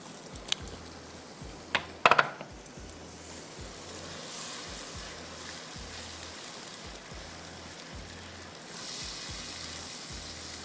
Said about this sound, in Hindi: भूनना है कि प्याज का कच्चापन बिल्कुल ख़त्म हो जाए